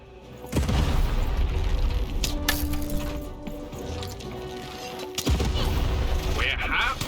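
A cannon fires in a video game, with heavy booms and cracks sounding through a loud, busy stretch, one sharp blast early and another near the end, over a continuous rumble and mechanical clatter.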